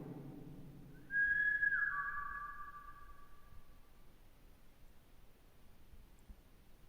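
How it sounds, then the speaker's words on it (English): A person whistles inside underground tunnels: one short, clear whistled note that slides downward, followed by a long fading echo against quiet background hiss. "If I whistle, can you whistle after me?"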